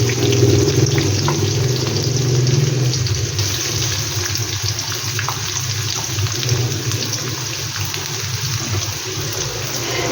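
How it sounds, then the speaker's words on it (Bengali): Onion goes into hot oil already seasoned with garlic, a loud, close, continuous hissing sizzle that is strongest at the start and then settles to a steady simmering fry. "প্রথমে তেলের মধ্যে ওই রসুন ফোড়ন দিলাম, এবার পেঁয়াজ দিয়ে দিলাম।"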